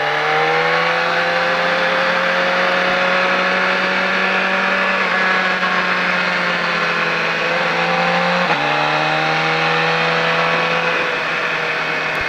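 A motorcycle on a riding-school track holds a loud, close engine tone that climbs as it accelerates along a short straight, shifts once to a lower pitch and then climbs again, with no talk over it.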